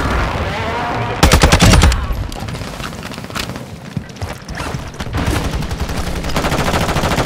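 Incoming machine-gun fire at a helicopter on approach, sharp rapid bursts of shots with a loud volley near the start and more chatter later over engine rumble and radio talk.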